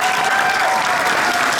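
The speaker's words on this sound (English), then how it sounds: "how about a huge round of applause for the charity department?" Convention crowd at a furry con charity event giving a big round of applause, loud, dense and continuous throughout with cheering mixed in.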